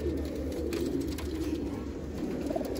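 Game pigeons at a bird sale cooing steadily and close by, a dense continuous murmur of low cooing calls over constant background hum.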